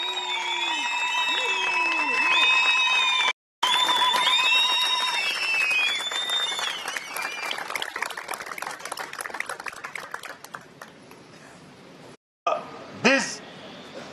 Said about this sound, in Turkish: alkışlarımızla, açlıklarımızla, zılgıtlarımızla protesto ediyoruz arkadaşlar